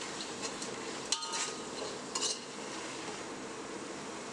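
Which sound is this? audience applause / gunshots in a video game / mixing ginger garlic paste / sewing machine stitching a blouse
mixing ginger garlic paste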